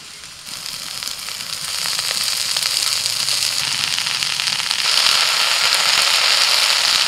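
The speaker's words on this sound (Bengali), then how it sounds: "কাঁচা লঙ্কা আর পেঁয়াজটা খানিকক্ষণ ভেজে নিয়েছি, এবার দিয়ে দিচ্ছি লাউ পাতা" Shredded bottle gourd leaves hit hot oil with fried onion and green chilli, starting a loud, steady sizzle that swells after a moment and keeps crackling close by.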